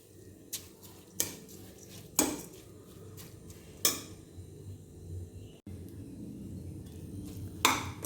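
Rice stirred in oil in a cooking pot, with a utensil knocking and scraping against the metal in several sharp clinks spaced over a low, steady background.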